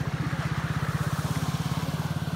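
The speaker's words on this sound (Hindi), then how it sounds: "बाइक किसी तरह गुजर पा रही है" Motorcycle engine chugging through knee-deep flood water on a village road, a steady low putter with rapid even pulses, close and continuous throughout.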